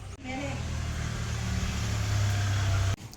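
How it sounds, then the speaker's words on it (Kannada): A motor vehicle is started and pulled out at home, its engine running steadily and close, rising slightly in pitch, then cutting off abruptly near the end. "ಗಾಡಿ ತೆಗಿತಾ ಇದ್ದಾಳೆ ಮಗಳು."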